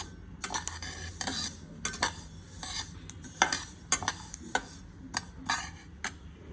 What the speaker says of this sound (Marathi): मस्त तीळ आता तिळाचा रंग बदलायला लागलाय आणि छान भाजून होत आहेत